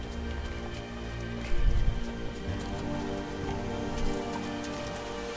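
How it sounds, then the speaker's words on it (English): Rain falls steadily in the video game Rise of the Tomb Raider, a continuous soft patter over a low ambient hum with a brief thud partway through. "It's like raining over here."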